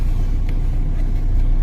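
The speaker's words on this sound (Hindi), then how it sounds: "गाड़ी चालू है, 2 मिनट कोई दिक्कत नहीं है" A car engine runs steadily with a low, constant rumble filling the background, heard at night while people prepare to film; no voices are present.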